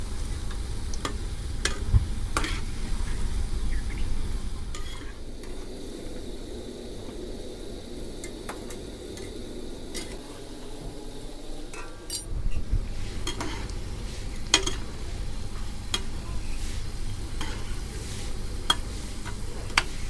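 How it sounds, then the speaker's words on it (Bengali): Snacks frying in hot oil while being turned over, a steady low sizzle broken by scattered clinks of a utensil against the pan, continuing alone without talk. "এখন একটু উলট পালট করে একটু লাল লাল করে ভেজে নিতে হবে"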